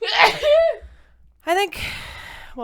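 A single sharp sneeze bursts out at the start, followed by a gasping breath, with brief talk and a short laugh afterward.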